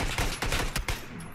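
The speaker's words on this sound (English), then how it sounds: "We're getting shot at in the ass." Gunfire in PUBG: a quick run of loud, close shots fired in short bursts, fading out by the end, with no voices over it.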